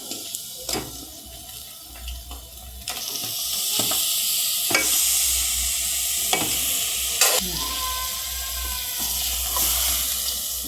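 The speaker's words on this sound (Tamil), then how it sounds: "மசாலாலாம் நல்லா வதங்கி வந்துடுச்சு இனி நம்ம தலைக்கறியில் இதில் சேர்த்துடலாம்" Masala sizzling in a pan while being stirred as mutton head meat goes in, a steady frying hiss broken by several sharp scraping stirs and clatters, with no talking.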